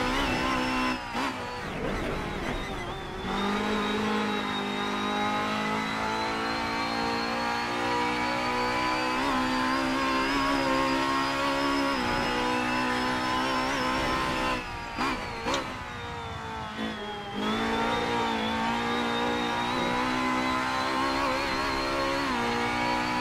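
A Honda Accord MK5 BTTC race car in a racing game, its engine droning and revving steadily for a long stretch, with a few short gear-change dips and faint tire noise.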